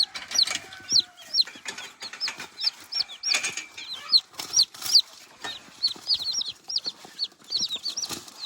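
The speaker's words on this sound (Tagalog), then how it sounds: "Yung mga sisiw." Baby chicks peep in quick, high, repeated chirps that come in rapid irregular runs, fairly close and clear, with a few soft knocks and rustles beneath and no speech.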